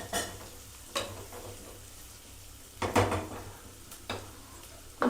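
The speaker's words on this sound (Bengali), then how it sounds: "পেঁয়াজটা হালকা ফ্রাই হবে, খুব বেশি না।" Onion frying lightly in a pan for an aloo paratha filling, a quiet steady sizzle broken by a few sharp scraping stirs and clatters of utensil against the pan, with no talking.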